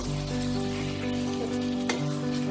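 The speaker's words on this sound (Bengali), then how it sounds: "চিকেনের কালারটা চেঞ্জ হয়ে যাবে, ততক্ষণ অবধি এটাকে আমি ভাজবো" Chicken pieces fry lightly in a pan for chicken do pyaza, giving a steady close sizzle with a brief stirring clatter near the end and a low hum beneath, no voices.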